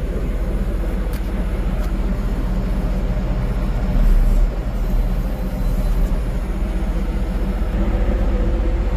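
A 2009 Caterpillar 140M AWD VHP Plus motor grader running steadily in first gear with all-wheel drive engaged, a loud continuous low diesel rumble that swells briefly partway through, close by with no talking.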